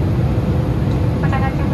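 Steady cabin drone of an FDA regional airliner in flight at night, a loud constant engine and airflow rumble filling the whole clip.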